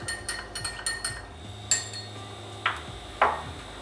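A bar spoon lightly stirs a gin cocktail in a glass, giving a run of quick, bright metallic clinks at first, then a few isolated louder taps, close and clear with no voices.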